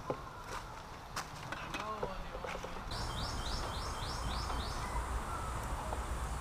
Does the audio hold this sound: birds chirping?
yes